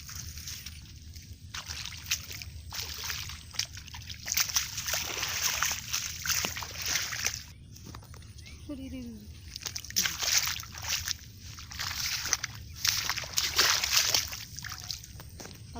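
Feet squelch and slosh through wet mud in a rice paddy field at planting time, with irregular splashing steps throughout and people talking over the sloshing.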